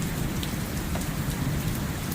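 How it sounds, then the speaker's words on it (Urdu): Heavy night rain during a cloudburst in Pothwar pours down steadily, making a dense, loud hiss and patter of drops on surfaces nearby without a break. "ابھی اس وقت بھی کافی تیز بارش ہے، تھوڑی نہیں زیادہ ہے"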